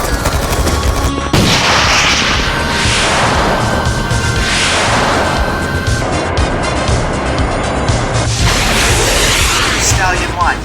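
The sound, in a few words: gunfire and artillery in a battle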